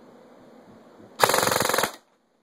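A JG M4 airsoft gun with an upgraded Classic Army gearbox fires one loud full-auto burst of about three quarters of a second, a fast, even rattle of shots that cuts off sharply after a quiet lead-in.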